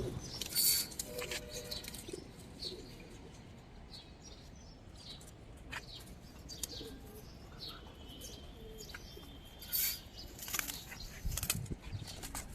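Pigeons of a silver-coloured breed being held and handled at a market, with soft wing flaps and rustles, occasional cooing and chirps, and louder flurries of flapping near the start and around the tenth second.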